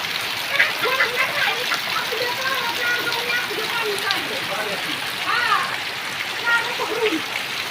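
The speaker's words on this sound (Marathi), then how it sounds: "दुपारी जेवणानंतर जे पाऊस चालू झाला की अजून चार वाजेचं चालूच आहे" Steady rain falls on a farm where peas are being picked and chickens have come in for shelter, a continuous even hiss with faint chirps and calls above it and no clear talk.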